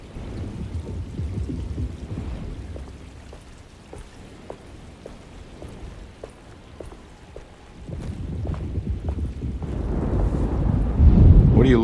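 Stormy ambience in the horror video game Alone in the Dark: steady wind and rain-like rumble with scattered ticks, swelling louder with a deep rolling surge near the end, no talk.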